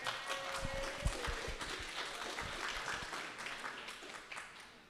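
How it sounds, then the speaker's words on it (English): Applause from an audience gathered for a storytelling event, a dense spread of claps filling the room for a few seconds before slowly thinning out. "let's give a round of applause for yourselves"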